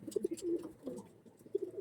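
Domestic pigeon with hard, callused feet coos softly in a few short, throaty bursts, close by and quiet, with brief pauses between notes.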